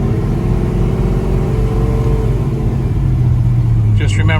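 A 1969 Chevrolet Nova on a test drive sounds loud and near, its engine droning and rising as it pulls away, with a voice speaking briefly at the end.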